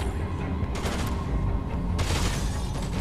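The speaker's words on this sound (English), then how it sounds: "Oh, someone's shooting me." Gunfire rings out in Dead Rising 2, a muffled cluster of shots with a couple of sharper bursts, moderately distant and under a steady background din.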